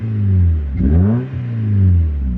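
A lowered five-speed car revs its engine up and back down twice, a loud, close, rising and falling drone with rough low-end rumble and no talk.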